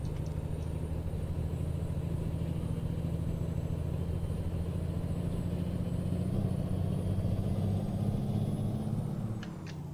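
Truck engine in the American Truck Simulator video game, revving high and holding a steady loud droning roar with a deep rumble throughout.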